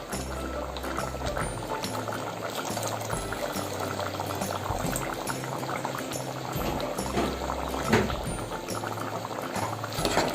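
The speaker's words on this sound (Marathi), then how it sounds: "वाटप शिजायला हवं म्हणून थोडंसं याच्यामध्ये पाणी घालणार आहे" Water poured into a simmering curry masala of fresh cashew kernels cooking in a pan, a steady bubbling and pouring wash that continues throughout, moderately quiet, with no voices.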